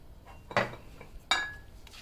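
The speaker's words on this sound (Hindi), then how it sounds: "ये सारे मसाले इसमें शामिल करके मैं इसको अच्छी तरह से मिक्स कर लूँगी" Spoon clinks against a metal pot or bowl while ginger garlic powder, black pepper and spices are mixed into raw chicken for tikka biryani, two sharp knocks with soft scraping between.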